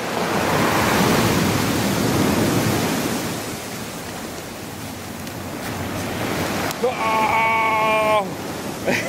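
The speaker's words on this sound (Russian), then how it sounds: "О, какие волны! Как они нас выносили!" Sea waves rush and break on the shore near Genoa in a broad, steady roar of surf, swelling and easing, with a short bleating or voice-like sound near the end.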